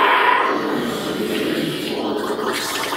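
A voice imitates a giant toilet flushing, making a close, loud, gurgling, rushing whoosh that holds steadily for about three seconds.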